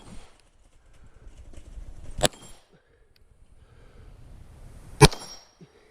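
Two sharp, loud gunshots at a shooting stage, spaced about three seconds apart, each a crisp crack over quiet outdoor background noise.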